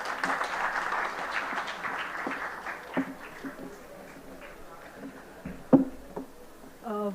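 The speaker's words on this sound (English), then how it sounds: "A huge round of applause for ma'am." Enthusiastic audience applause, loud at first and then thinning out into scattered claps before a brief burst near the end.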